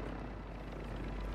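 A helicopter in a video game drones steadily and loudly with a dense rotor rumble, holding a constant level through the short span.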